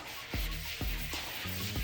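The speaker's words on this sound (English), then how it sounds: "doing the ubiquitous wet sanding here" Wet sanding of BMW car paint during prep work, a steady rubbing scrape repeated in strokes about every half second, close and fairly loud with no talk.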